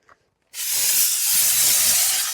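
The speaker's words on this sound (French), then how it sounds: "je fais juste un nuage de vapeur et je viens l'essuyer légèrement" A handheld steam cleaner bursts on after a brief click, releasing a loud, steady hiss of vapour while cleaning a car interior's screen, holding continuously until the end.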